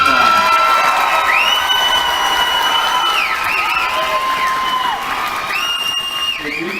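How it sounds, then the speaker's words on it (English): A school audience applauds and cheers for a middle school varsity band at a Christmas concert, with a dense steady crowd roar and high whoops and shouts rising above it, staying loud throughout. "let's give our Varsity band one more round of applause."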